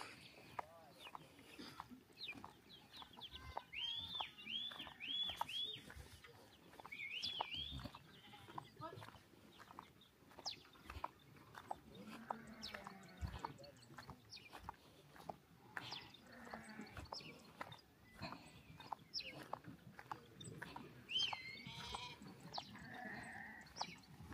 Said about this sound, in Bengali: দুম্বা বের করা হচ্ছে।